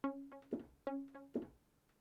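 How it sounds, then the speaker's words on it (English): Faint electronic tones with filtered delay echoes added, two short phrases each followed by softer repeating tails, quiet and without talking. "You hear those little echoes"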